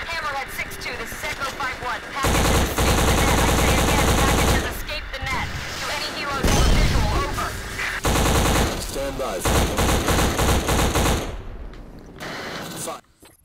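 Sustained machine-gun fire from the first-person shooter video game Black, long loud bursts of rapid automatic shots broken by short pauses, with a voice talking in between.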